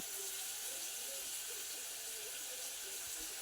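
Spice paste for a fish curry with potato and pointed gourd fries in a pan, making a soft, steady sizzling hiss that stays faint and even, with no talking.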